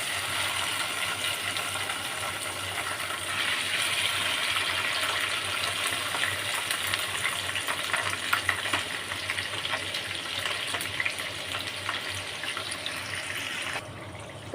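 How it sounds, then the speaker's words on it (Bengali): Paneer pieces fry in oil in a pan, a continuous close sizzle and crackle running steadily throughout, with brief clinks of handling near the end and no talk. "ওটাকে আমি প্রথমেই একটু তেলে ভেজে নেব, অল্প অল্প করে, দু পিঠ এপিট ওপিট করে।"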